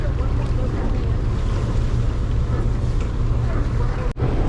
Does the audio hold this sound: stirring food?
no